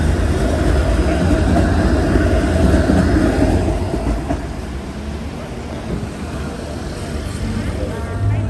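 A train rumbles past with a heavy low roar that gradually fades, while people talk nearby.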